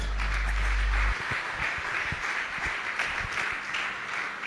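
A church congregation claps together during a worship service, a sustained patter of many hands with scattered louder claps, preceded by a steady low hum.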